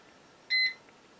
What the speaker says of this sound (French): Et il bip toutes les 10 secondes.